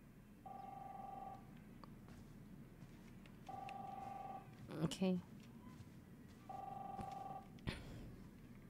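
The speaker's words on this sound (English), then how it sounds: "Chris, answer the phone." Telephone ringing in the video game Captain Spirit, three separate electronic ring bursts spaced a few seconds apart, with a short spoken reply and other brief sounds between the rings.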